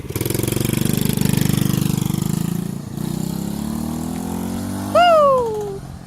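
A 70cc dirt bike engine revving in neutral, a close buzzing drone that rises and falls in pitch, then a sharp high-pitched whoop as the throttle snaps open near the end.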